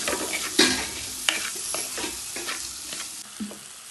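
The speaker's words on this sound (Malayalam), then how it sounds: "ടൊമാറ്റോ ഇട്ടിട്ട് നമുക്ക് നന്നായിട്ടൊന്നത് മിക്സ് ആക്കി എടുക്കാം." Tomatoes stirred in a sizzling pan for a chala mulaku curry, with a steady low fry hiss broken by several sharp scrapes and clinks of a spoon against the pan, close and with no talking.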